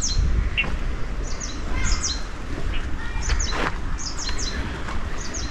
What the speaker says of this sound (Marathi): हे इथे पक्ष्यांचे सुद्धा इतके सुंदर आवाज येत आहेत.